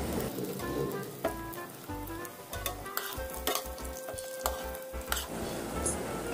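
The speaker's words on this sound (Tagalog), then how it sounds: "Tapos ispan-fry din natin yung 15 pieces sliced kikiam for 2 minutes hanggang maging golden brown yung kulay nito." Sliced squid balls and kikiam fry in a pan, a steady close sizzle with repeated scraping and stirring knocks from the utensil against the pan throughout, and no talking.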